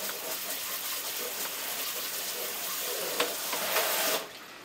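Soaked cashews being drained and rinsed under a running kitchen tap, a steady broadband rush of water splashing into a sink that stops abruptly near the end, with no talking.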